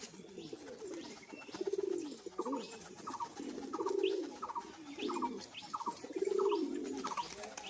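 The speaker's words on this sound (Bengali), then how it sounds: "আরেকবারও ছেড়ে দিচ্ছি পায়রাটা" Pigeons coo in a repeated low, throaty rhythm at roughly one-second intervals, with faint chirps above. Birds of the standard, road-type and tumbler pigeon breeds are being released, and there is no talk.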